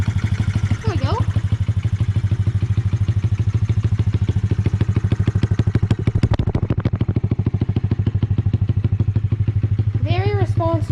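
Dirt bike engine running again after three years unused, idling loud and close with a rapid, even popping chatter, smoky and a little rough; brief whistles or squeals cut in near the start and end.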